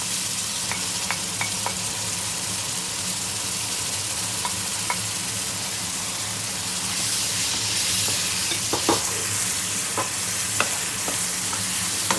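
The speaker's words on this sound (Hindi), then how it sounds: "हम इसमें टमाटर ऐड कर देंगे साथ ही।" Onions and tomatoes fry in a pan for a vegetable pulao masala, giving a steady close sizzle broken by scattered clicks and scrapes of stirring.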